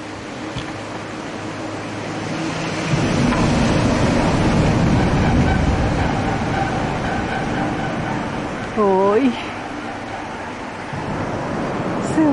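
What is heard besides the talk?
traffic noise from cars on a bridge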